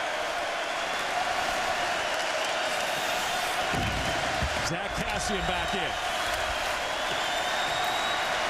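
Hockey arena crowd giving Henrik Sedin a standing ovation, a dense continuous roar of applause and cheering filling the whole stretch, with a commentator talking over it.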